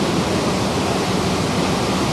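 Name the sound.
waterfall near hotel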